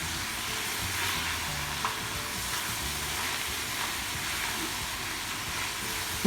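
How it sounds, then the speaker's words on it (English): Paneer and vegetables sizzle steadily in a pan while being mixed, a continuous broadband frying hiss with faint scraping stir sounds over the full span and no talk. "Basically we have to toss the rice in this vegetables and paneer"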